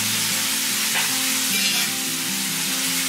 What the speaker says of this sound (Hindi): इसको अच्छा मिक्स करेंगे, अच्छे से मिक्स करेंगे